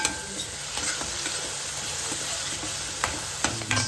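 Chillies sizzle loudly in hot oil for a fish curry, a steady frying hiss broken by a few sharp spatters and clinks of stirring near the end.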